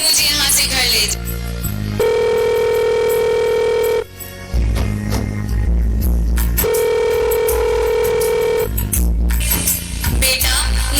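A phone call rings through as a mother calls her son, two long, sustained electronic ringback tones separated by a short pause, set against a continuous low background.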